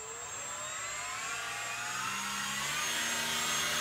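Electric motor of a model river drone throttling up, a steady high-pitched whine that rises in pitch over a few seconds, alone and fairly close.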